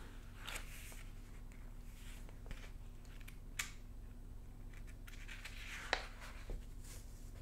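Quiet, close crinkles and soft creases of sticky notepad paper being folded, with occasional sharper crackles against a low hum.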